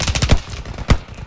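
Bursts of video game gunfire crack in a quick cluster of three shots, followed by one more loud report after a short pause, all close and punchy.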